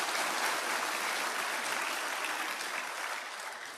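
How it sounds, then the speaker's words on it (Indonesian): An audience at a motivational seminar gives loud, dense clapping that fills the whole moment and fades slightly toward the end. "Tolong berikan tepuk tangan saya."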